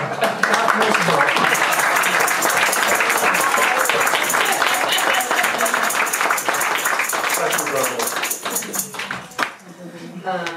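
Sustained audience applause at a church thanksgiving service, dense clapping that fades out near the end as talking resumes.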